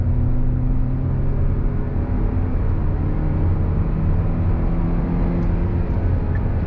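The 2023 Hyundai Tucson XRT's engine holds a steady gear in sport mode, a continuous droning hum with road and wind noise from inside the cabin, even and unbroken.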